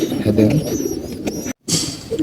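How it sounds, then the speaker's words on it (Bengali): A pair of military pigeons and their chicks coo at close range, soft throaty calls repeating over faint background noise, broken by a brief dropout. "আমাদের বাসায় একজোড়া মিলিটারি কবুতর বাচ্চা হয়েছে"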